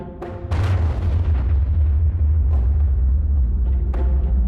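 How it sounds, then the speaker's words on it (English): The Operation Crossroads Baker nuclear bomb explosion booms out in a deep, heavy roar. It opens with sharp bursts, then settles into a sustained low rumble with scattered cracks, loud and continuous. "Even today, the Baker shot remains the most enduring single image of the power of the bomb."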